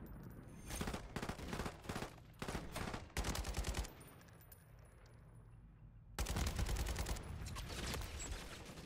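Rapid bursts from an RPK light machine gun in Call of Duty MW3, several sustained strings of close, punchy shots broken by short pauses, with no voices.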